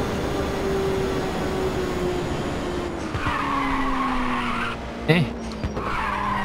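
A race car drifts in Ridge Racer on PSP, its tires skidding and squealing steadily over a droning engine for several seconds, with a brief grunt from a player.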